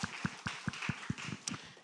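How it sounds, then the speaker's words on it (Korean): Congregation in a Sunday church service clapping in a steady rhythm of sharp, regular claps, close and moderately loud with no talk over it. "하나님께 영광의 박수 올려드립니다"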